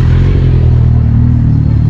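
A group of motorcycles revving together outdoors at a park, a loud, dense low engine rumble with overlapping throttle pulses, close and sustained without a break.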